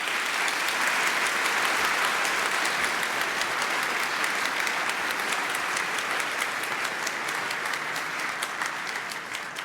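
Dense, sustained applause from a large conference audience after a talk at the Chaos Communication Congress, loud and steady for nearly ten seconds with no voices.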